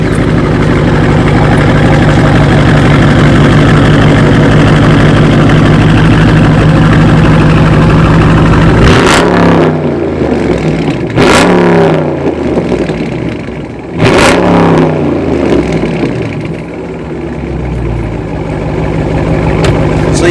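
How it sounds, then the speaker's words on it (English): A 2019 Dodge Charger Scat Pack idles with a loud, deep rumble, then its V8 is blipped through three sharp revs that flare and fall back, the idle settling between them and no voices present. "I'm gonna give it a few revs, and you guys be the judge"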